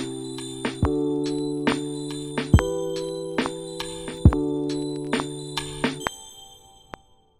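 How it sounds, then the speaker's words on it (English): A small bell chime rings about a dozen times in an even rhythm over a sustained low pad in a lofi beat made in GarageBand, each strike bright and clear, fading out with a last lone ding. "it's just a little bell at the end just to make it more sad and nostalgic"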